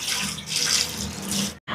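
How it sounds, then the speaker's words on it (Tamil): Tap water gushes steadily into a cooking pot being filled for rice in a home kitchen, a loud continuous rushing stream that cuts off abruptly near the end, with no talking. "இப்போ எங்களோட உலைக்கு தேவையான அளவுக்கு தண்ணியை நிறைச்சி எடுப்போம்."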